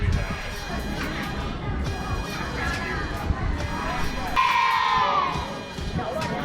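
Children cheer and shout amid a lively crowd in an art-filled street district of Kaohsiung, Taiwan, during Halloween, a steady babble of excited voices with a brighter burst of shrieks partway through.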